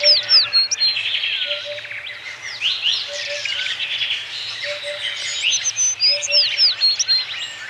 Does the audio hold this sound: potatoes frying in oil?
no